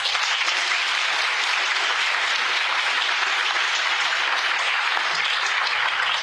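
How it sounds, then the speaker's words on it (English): A large audience at a medical school white coat ceremony gives a round of applause: a dense, loud, continuous wash of clapping that holds steady throughout with no pauses. "So let's give them a round of applause."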